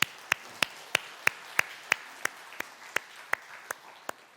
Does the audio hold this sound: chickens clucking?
no